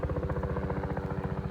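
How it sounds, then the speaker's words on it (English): An ambulance helicopter lifting off at an emergency scene in Charleston, Missouri, its rotor beating in a fast, steady loud thump with engine whine, close and continuous. "The helicopter finna go"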